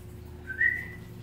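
A single short rising whistle from a parrot, clear and fairly faint, sounds over a quiet low hum; brief and bird-like.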